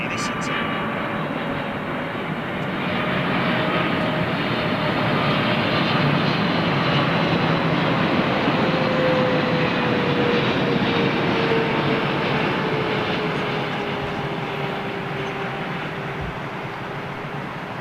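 Emirates Boeing 777 airliner jet engines roar steadily at an airport, a broad continuous rumble with a slowly gliding whine, rising then holding loud and near, with faint talk in the background.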